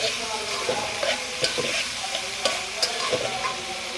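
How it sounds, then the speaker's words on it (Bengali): Onion, garlic and green chilies frying in a pan for a tomato fish curry, a steady close sizzle broken by several sharp scraping stirs of a spatula against the pan. "এখন পেঁয়াজ, রসুন, কাঁচা ঝাল ভেজে নিচ্ছি।"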